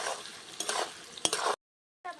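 Fried amla is stirred with salt in oil, a close scraping and sizzling of several strokes that stops briefly and then resumes.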